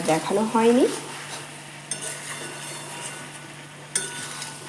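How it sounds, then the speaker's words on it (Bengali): Jackfruit and prawn curry stirred in a pan after the lid comes off: two brief scraping clatters of a spoon against the pan, over a faint simmer, after a short tonal sound at the start. "এবার ঢাকনাটা খুলে নিচ্ছি একটু নেড়ে দেব"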